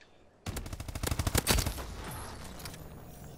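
Rapid gunfire in a Search and Destroy video game match: a loud, dense burst of shots in quick succession that peaks and then trails off into a fading echo, with no talking over it.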